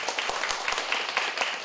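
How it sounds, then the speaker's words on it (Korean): Applause from a church congregation for the men's mission group, a steady wash of many hands clapping throughout a short moment, moderately loud and unaccompanied by talk. "우리 남전도에 큰 박수 한번 보내주시기 바랍니다."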